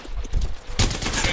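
Apex Legends gunfire: a dense burst of rapid shots rattles loud and close over about a second, with a sharper crack midway and no voice.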